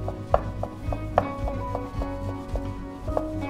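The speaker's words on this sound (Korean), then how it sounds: "이렇게 해서 이제 쇠고기까지 다 채 썰었어요" Knife slicing fatty beef sirloin into thin strips on a wetted wooden cutting board, a steady run of close, crisp taps at a regular rhythm with a low background hum.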